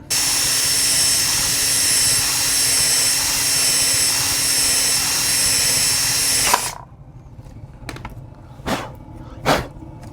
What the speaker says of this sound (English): so we're going to use a 5/16 drill bit